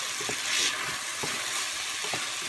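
Bulgur sautéing in a frying pan, a steady close sizzle and crackle with soft occasional stirring scrapes, no voices.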